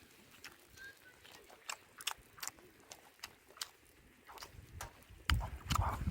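Close, quiet chewing of undercooked food from a mini camping grill, soft irregular crunches and bites spaced through a hushed outdoor setting, growing louder toward the end.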